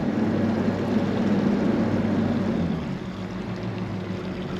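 A boat turning its stern to starboard with lateral thrusters, giving a steady low mechanical hum and water rush that eases slightly partway through.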